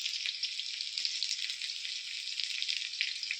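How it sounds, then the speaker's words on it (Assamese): Chopped onion frying in hot cooking oil in a home kitchen, a steady, close hiss and crackle without any break and no talk over it. "পিঁয়াজটো ভাজি দিলাক"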